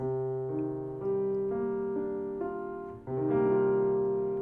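Piano plays a full, mellow minor eleventh chord repeatedly, notes ringing out and overlapping, re-struck a few times in a steady, unhurried way.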